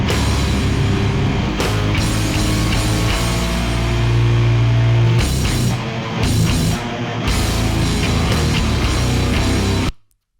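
A dense, loud full-band sludge metal demo mix with driving guitars and drums plays continuously, briefly dropping out in spots before stopping near the end.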